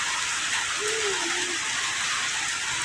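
Steady rain hisses on surfaces, a dense continuous wash of patter with no break; a brief faint tonal sound passes midway.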